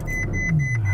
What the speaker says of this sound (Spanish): Ese encendido de Ferrari que empieza con una nota aguda y luego cuando llega al mínimo baja.